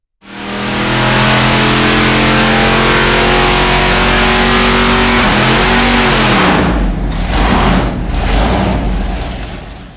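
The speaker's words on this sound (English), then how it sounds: "A big pop out the exhaust." A 454 big-block Chevy V8 with a small cam roars loud and steady under load on a dyno, then its pitch sags and a few sharp bursts crack out of the exhaust as the engine falters.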